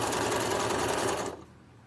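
A sewing machine stitches a drawstring gift bag in a fast, steady whir close by, then stops abruptly near the end.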